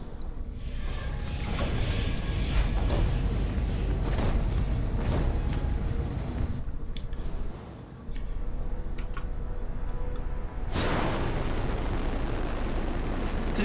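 A destroyed mech in a giant-robot combat video game bursts apart in a loud, sustained rumbling explosion with crackling debris, followed by a brief lull and a second roaring blast.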